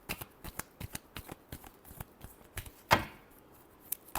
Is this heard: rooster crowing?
no